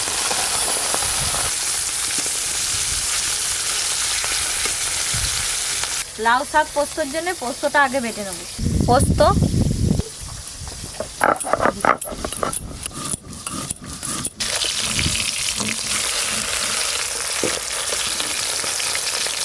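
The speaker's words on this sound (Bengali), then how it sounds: "ওদিকে তেলও গরম হয়ে গেছে, এবার মাছগুলো ভালো করে ভেজে নেব" Bata fish fry in hot oil with a steady sizzle throughout. Talk sits over the sizzle midway, with a few sharp clatters and a louder burst of spitting near the middle.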